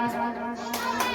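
Applause from a crowd welcoming a class 10 girl at a kids' coaching centre's 2025 Independence Day celebration; short bursts of clapping rise over a steady background tone.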